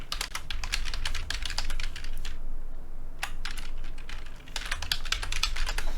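Rapid keystrokes clatter on a computer keyboard as a file name is typed, in dense bursts with one short pause, close and fairly loud, with no voice over it.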